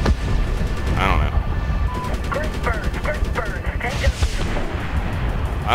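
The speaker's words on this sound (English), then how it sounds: "Stuff blows up, so I keep shooting it." Explosions and rapid gunfire from the 2010 Medal of Honor video game, loud and continuous, with repeated sharp bursts and booms packed together throughout.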